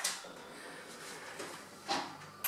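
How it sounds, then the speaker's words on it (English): Window blinds are drawn shut at a door, giving a few short scraping, rattling swishes spaced apart, moderately quiet, in a room with no voices. "Titi, please close the blinds for the door."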